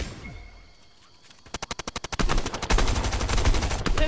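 Fortnite gunfire starts quiet, then a rapid burst of evenly spaced shots rings out, followed by denser, louder overlapping fire that carries on to the end.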